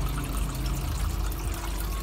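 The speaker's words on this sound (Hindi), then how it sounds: "तो थोड़ा सा हम पानी डालेंगे इसमें, हल्का सा पानी" A little water is poured into the cooking chicken mince and lentil mixture for shami kebabs, a steady close liquid pour running throughout without talk.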